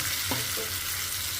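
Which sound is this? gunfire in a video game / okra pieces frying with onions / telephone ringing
okra pieces frying with onions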